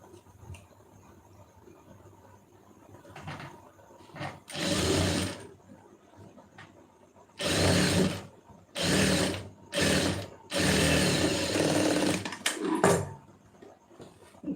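A sewing machine stitches a fabric strip in separate loud bursts of a few seconds each, about five runs in all, with quiet pauses between them.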